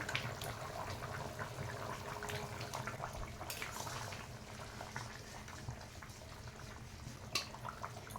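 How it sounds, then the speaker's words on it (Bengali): Chicken curry broth bubbling at a steady simmer in a covered pot, a continuous soft, close burble with small pops and a brief clink partway through. "এবার ঢাকা দিয়ে দেবো ঝোলটা ফুটে গেছে"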